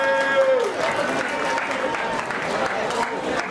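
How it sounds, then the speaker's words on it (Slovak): Applause from an audience at the award ceremony of a Slovak goulash cooking contest, greeting the first-prize winner; steady, dense clapping that carries across the whole moment at moderate loudness, with a brief tone at the start. "veľký potlesk pre prvú cenu"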